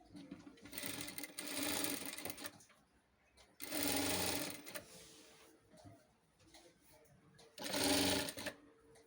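A sewing machine stitches a blouse puff sleeve in three whirring bursts of about a second or more each. Quiet pauses separate the bursts, and the sound is close and clear with no talking.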